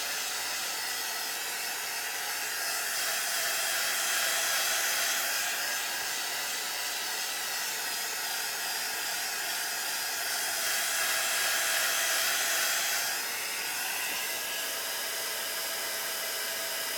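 A hair dryer blows steadily for a long stretch, drying paint on paper bag journal pages, a loud continuous whooshing hiss whose pitch shifts slightly as it is moved closer and away.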